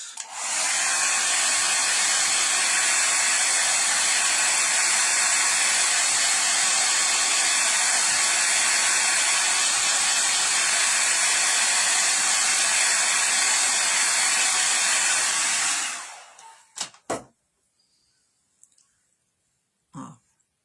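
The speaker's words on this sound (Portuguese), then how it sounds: "Vou secar as folhas pra daí eu bater a flor." A hair dryer blows steadily and loudly up close for about sixteen seconds, drying fresh paint on a wooden birdhouse, then cuts off, leaving a few faint knocks and a throat clearing in near silence.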